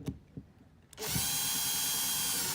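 A power drill or driver runs steadily to retighten Allen bolts on a Freeman PP123 nailer after the drive blade and bumper are replaced, starting abruptly after a few quiet clicks and holding a loud, continuous whine.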